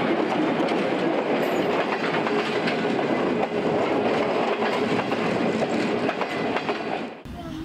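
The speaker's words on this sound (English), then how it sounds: "On board the standard gauge Lagos-Ibadan train service are first class, business and economy seats." Standard gauge Lagos–Ibadan passenger train running, with a loud, steady clatter of wheels on rails and carriage rumble continuing for several seconds before cutting off abruptly near the end.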